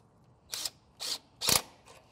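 Tightening a clamp on a boost leak tester fitted to a low-power Volvo gives three short, faint ratcheting clicks about half a second apart, then a softer fourth, with no voices.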